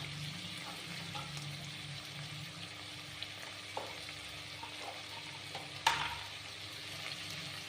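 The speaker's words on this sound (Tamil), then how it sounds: "காய் நல்லா வதங்கட்டும்." Vegetables sauté with salt and turmeric in a pan, making a steady, soft sizzle with occasional light stirring clicks and one sharper clatter near the end, with no voices.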